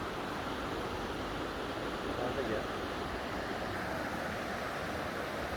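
Water rushes steadily through a channel feeding a traditional water mill in Shangla, a continuous broad wash of flowing water that holds the same level throughout with no break.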